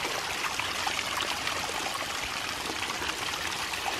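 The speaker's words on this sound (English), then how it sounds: "pull the drain plug down here and drain the bucket from all the silt and sediment" Water drains steadily out of a bucket through its bottom drain plug, flushing silt and sediment at an off-grid water tower. The flow is a loud, continuous, close-up trickling rush with no pauses.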